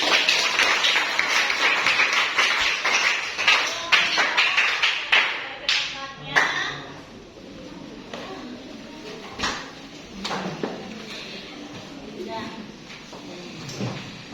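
Classroom students clapping after a group presentation, a brisk round of applause that thins into scattered claps and thumps, with people talking in the room throughout.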